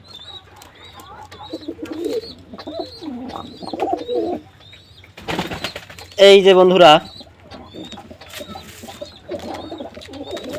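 Owl pigeons coo softly and repeatedly inside a loft near a nesting basket holding eggs, with chirps and a brief loud burst of wing flapping midway, while someone speaks over the birds.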